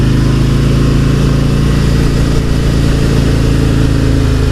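A 2018 Harley-Davidson Road King Special heads into a turn with a loud, continuous engine drone that stays steady and close throughout, and no voices are heard.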